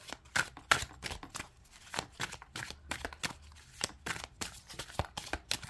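A Tarot of the Owls card deck is shuffled by hand in rapid, uneven bursts of crisp slapping and riffling, loud and close with short gaps between strokes.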